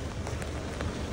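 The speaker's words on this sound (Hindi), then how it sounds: "बहुत तगड़ी बारिश हो रही है" Steady, dense hiss of heavy rain pouring down in a snowy area, a constant wash of noise with no breaks.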